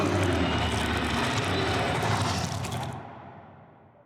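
A dense, roaring burst of noisy sound like a video game creature's death cry, loud and washy, trailing off into a fading reverberant tail.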